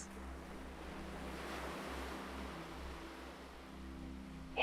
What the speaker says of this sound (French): Vous sentez les vagues qui vous bercent